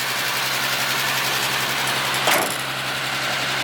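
A V12 car engine idles smoothly and steadily at close range, with a brief click or knock partway through.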